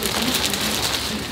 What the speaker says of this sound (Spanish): Ya que todos los días está lloviendo